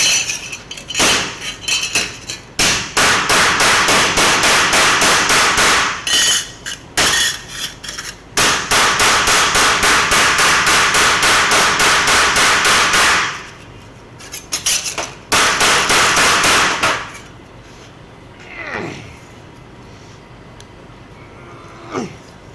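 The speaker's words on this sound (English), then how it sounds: "I'm going to do a little hammer on this and see what happens." Rapid metallic hammer blows on a laser-welded metal butt joint ring out in long dense bursts, broken by short pauses, sharp and close.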